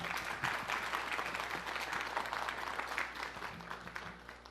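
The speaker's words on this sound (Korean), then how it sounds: "여러분 다시 한번 뜨거운 박수 보내주십시오" An audience claps warmly at the 2022 laboratory safety week opening ceremony in Korea, a sustained, fairly even round of applause that fades slightly toward the end.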